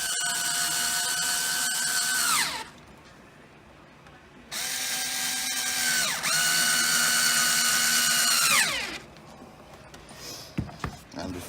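A cordless power drill tightens a light bar bracket in two close, whining bursts, each rising then sliding down in pitch as the bracket snugs up, with a brief pause between and light handling clicks after.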